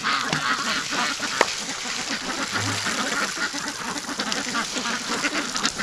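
A flock of Muscovy ducks quacks continuously nearby, a busy, overlapping chorus of harsh calls with a sharp knock partway through and a low thud soon after.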